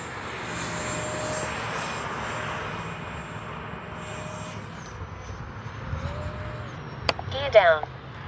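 Freewing A-6 Intruder 80mm RC jet on a show pass, a steady whooshing ducted-fan whine that swells and drifts away, with a person talking over it and a sharp click near the end.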